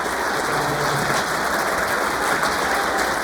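Dense, steady applause from a crowd at a wrestling reunion banquet, continuous and fairly loud throughout.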